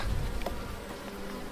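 Honeybees hum and buzz steadily in a close, dense drone at an opened medium beehive, with no voices over the sound.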